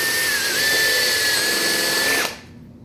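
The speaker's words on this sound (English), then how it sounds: "I drill and then I straighten up my drill so I go straight through to the" A power drill bores through a dried birdhouse gourd with a loud, steady whine that holds for about two seconds, then cuts off abruptly as the bit breaks through, leaving only quiet background.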